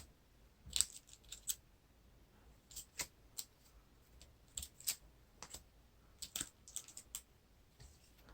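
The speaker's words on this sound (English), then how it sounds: "Deal out shadow cards." Cards are dealt one by one onto a table during a Lord of the Rings card game, making faint, quick irregular clicks and light slaps with short pauses between them.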